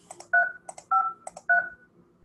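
Someone dials a phone number to call a house seller. A quick run of about six close, clear DTMF keypad beeps comes in uneven groups, with no talking.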